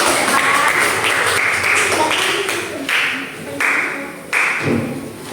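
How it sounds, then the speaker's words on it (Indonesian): A classroom of students applauds their presenters, with uneven bursts of clapping and thumps rising and falling over the pupils' murmuring voices. "kita beri tepuk tangan untuk yang sudah presentasi"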